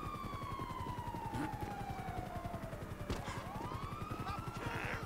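Police siren wailing and sweeping steadily in Grand Theft Auto V gameplay, with a rapid burst of gunfire partway through and a continuous pulsing engine rumble underneath.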